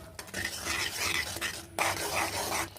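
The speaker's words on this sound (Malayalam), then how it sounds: "നല്ല തിളച്ച് വെന്തുകൊണ്ടിരിക്കുന്നുണ്ട്." Mango curry bubbling in a pot while being stirred, a loud, close mix of sizzling simmer and spoon scraping against the vessel with no talk.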